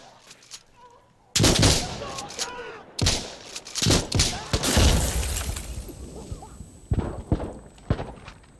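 Loud shotgun blasts ring out in the shooter game Insurgency Sandstorm, several heavy booms spaced a second or two apart with ringing tails, breaking debris and low game ambience between shots.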